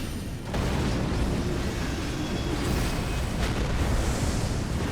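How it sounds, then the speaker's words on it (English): Magma spell explosions in a fantasy video game make a loud, continuous rumbling roar. A low, noisy blast kicks in after half a second and holds steady to the end. "Kinda hard to hit this guy with the actual explosion."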